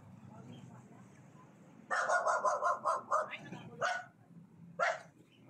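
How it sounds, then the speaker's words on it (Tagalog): A dog barks in a quick run of several loud, close barks, then two more isolated barks, over a low outdoor background hum. "Tabi kayo, may aso dyan. May aso po."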